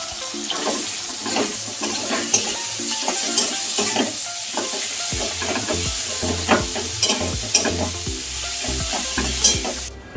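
Chopped onion hitting hot oil tempered with whole garam masala: a loud, steady sizzle close by, with occasional clatter of stirring and no voices.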